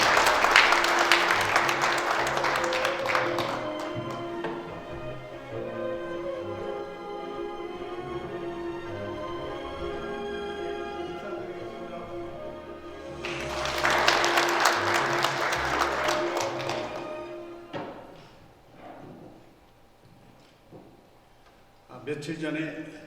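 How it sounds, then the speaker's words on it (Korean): At a regular breakfast lecture forum, an audience bursts into loud applause to welcome the association's chairperson. A second wave of clapping follows, and a speaker talks between and after the bursts. "큰 박수로 환영해 주시면 감사하겠습니다"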